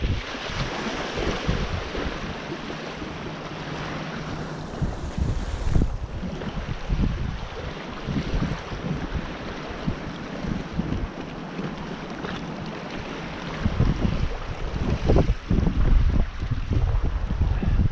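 Strong coastal wind buffets the microphone beside the sea in Guernsey during shore fishing, a constant rough roar with surf washing beneath it for the whole stretch.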